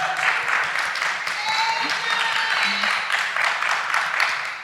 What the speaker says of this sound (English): That side of the room clapped, but this other side of the room did not applaud